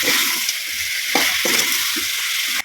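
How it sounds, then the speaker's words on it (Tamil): Chicken with ground turmeric sautéing in a pan over a wood-fired stove, a loud continuous frying hiss with a few soft stirring knocks, ending abruptly. "இது ஒரு பத்து நிமிஷம் வதங்கணுங்க கறி வந்து திரும்ப வரும் பத்து நிமிஷம் வதங்கும்"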